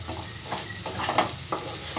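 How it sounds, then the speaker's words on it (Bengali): Masala spices frying in a pan with ghee, sizzling steadily with repeated stirring scrapes at irregular intervals, close and moderately loud, with no talk. "খুব ভালো করে মশলাটা আমার ভাজা হয়ে গেছে"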